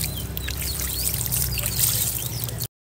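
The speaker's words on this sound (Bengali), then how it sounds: "এই বাকি জলগুলো এখানে দিয়ে দিই।" Leftover water poured from a container into a rooftop plant pot, a steady close trickle and splash lasting a few seconds with no speech.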